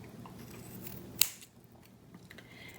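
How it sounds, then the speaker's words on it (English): Scissors make a single sharp snip while cutting wire for a Wotofo Profile 1.5 RDA vape coil. The cut is close and crisp in a quiet room, followed by faint handling noise. "get my scissors because you can use this a couple times. I'm just going to cut it right there."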